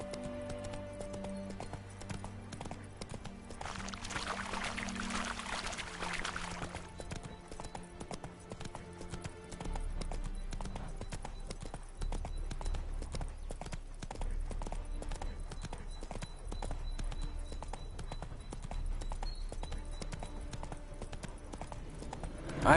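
The horse Roach clip-clopping along in The Witcher 3, a steady rhythmic trot of hooves that runs throughout, with a musical score and brief ambient noises in the background.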